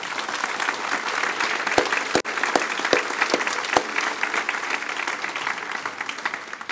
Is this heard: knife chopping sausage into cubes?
no